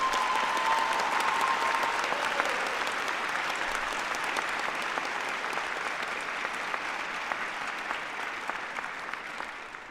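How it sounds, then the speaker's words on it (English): Sustained applause from a large audience at a 2026 high school graduation ceremony, dense steady clapping holding at full strength for the whole stretch and easing only slightly toward the end, with no voices over it. "Please give them a big round of applause to my beautiful mom."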